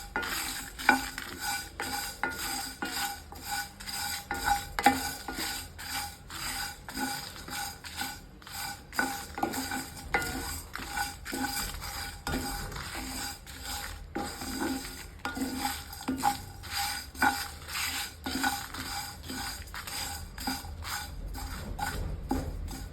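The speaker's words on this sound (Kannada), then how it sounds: "ಇದೇ ಮೂಮೆಂಟಲ್ಲಿ ಕರ್ಬೇವಿನ ಸೊಪ್ಪನ್ನು ಹಾಕ್ತೀನಿ, ಅದು ಸ್ವಲ್ಪ ಫ್ರೈ ಆಗಲಿ" Curry leaves frying in a pan for turkey berry chutney, with a spatula scraping and clinking against the metal in an uneven rhythm over a soft, steady sizzle, close up.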